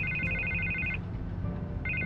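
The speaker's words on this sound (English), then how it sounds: "I can't get the phone to stop ringing." A telephone rings in Batman: The Telltale Series video game, an electronic trilling ring that repeats in two bursts over a low background score, with no speech.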